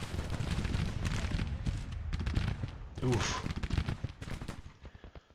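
Cannon and artillery fire booms across a Grand Tactician battlefield set in summer 1863, dense overlapping blasts and crackling gunfire rolling close and loud, thinning toward the end, with a voice briefly exclaiming over it.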